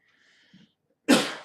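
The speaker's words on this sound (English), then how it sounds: "I've got some kind of cough I've developed." A soft breath, then a single sharp, loud cough bursts out close up in an otherwise quiet room.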